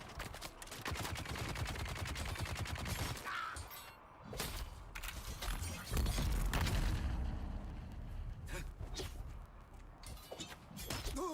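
Gunfire in the Dune Awakening video game: dense, rapid bursts of shots and booms filling the clip, with a brief lull before heavier blasts resume.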